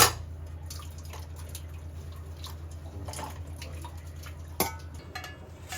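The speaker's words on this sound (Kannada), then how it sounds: "ಬಿಸಿ ಬಿಸಿ ವಾಟರ್ ಹುಯ್ದಿಂಗ್." Hot water is poured over a stuck gas stove pipe to loosen it, a soft close trickle and dripping over a low hum, with a sharper splash or knock near the end.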